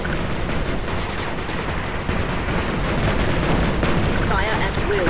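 Gunfire from units in the game 8-Bit Armies, a dense continuous clatter of shots and blasts at steady loudness throughout, with voices talking over the battle.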